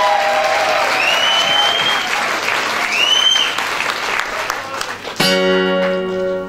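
Audience at a singing competition final in Southampton applauding and cheering loudly, with whistles and shouts over dense clapping that fades before a musical chord cuts in.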